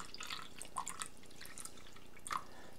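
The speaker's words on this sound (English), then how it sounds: "So, let me just add some more water here." Salt water is poured or dripped into a container used for a three-wire water depth sensor, giving faint, scattered drips and small splashes, with a couple of brighter plinks near the start and end.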